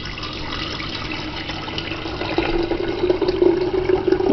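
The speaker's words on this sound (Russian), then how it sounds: "Давайте наполним наш новый прибор." Tap water pours into a new Redmond RK-G152 electric kettle, a steady splashing rush that grows louder and deeper in pitch as the kettle fills, close by.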